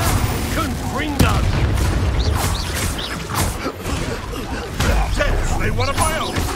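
Confringo blasting-spell explosions in a Harry Potter video game. Several sharp booms and crashes burst out amid mechanical clatter, while voices talk and shout throughout.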